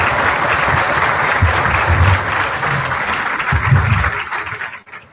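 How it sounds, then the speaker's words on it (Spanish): An audience at a forum on the rights of children and adolescents gives a loud, sustained round of applause for a speaker, a dense crowd clatter that holds steady before tapering off at the end. "Les pido por favor un fuerte aplauso al doctor maestro."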